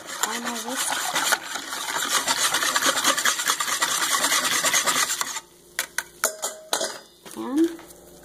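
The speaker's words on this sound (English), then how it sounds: "Get the final whisk." A whisk scrapes and rubs rapidly around a bowl of KaLangFen batter for several seconds, then slows to a few separate stirring strokes with clinks, while a person talks.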